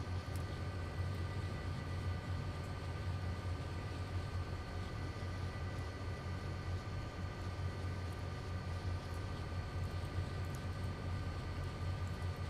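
A CSX freight locomotive in Train Simulator Classic runs at full throttle yet barely gains speed, giving a steady, droning engine hum with a constant low rumble throughout and no voices.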